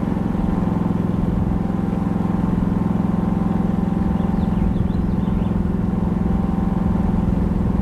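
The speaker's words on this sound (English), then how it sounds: "Now let's test it at idle." A portable generator idles steadily inside a styrofoam noise reduction box, giving a constant low, even engine hum with no load on it that holds at the same level throughout.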